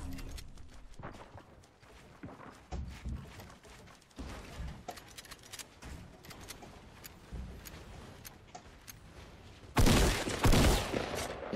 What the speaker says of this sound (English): Ooh, grenade launcher.